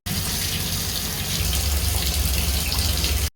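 Water gushes steadily from a drain or tap while an electric water heater fills. The rush is loud, close and continuous and stops abruptly at the end, with no voices.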